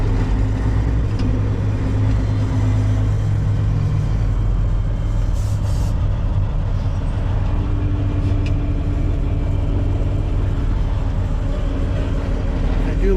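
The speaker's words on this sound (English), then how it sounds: "Boy, look at this traffic." Sunday afternoon traffic in Boston heard from inside a Peterbilt 379 truck cab: a loud, constant engine and road rumble fills the scene with steady low drone and no distinct passing events.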